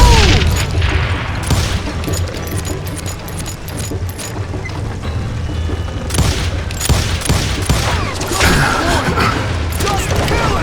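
Rapid gunfire in the Western shooter game Call of Juarez Gunslinger, loud repeated shots and booms in dense bursts with in-game voices shouting over them.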